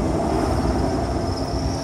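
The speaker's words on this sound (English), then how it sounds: "Trucks are going by." Steady low traffic rumble with a faint whine as trucks pass nearby on a road, continuous and unbroken.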